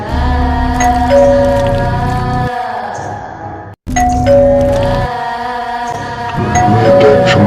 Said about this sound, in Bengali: মেয়েটা এক সময় বেল শুনতে পায়।